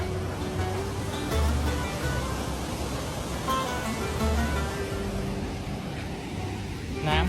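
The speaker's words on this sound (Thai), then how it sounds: "น้ำโคตรแรง" Strong, fast-flowing river rushing near a waterfall in New Zealand, a dense, loud and steady roar of water close by with no clear breaks.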